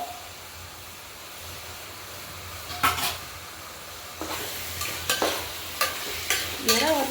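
Prawns frying and being stirred in a pan for prawn biryani, a steady sizzle underneath with a series of sharp scraping stirs that grow more frequent toward the end, close and fairly loud, no voices.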